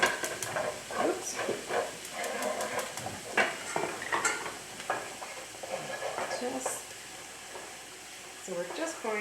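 Flour being stirred into a cream sauce in a pan with mushrooms gives soft scraping and a steady low sizzle, while a person talks throughout.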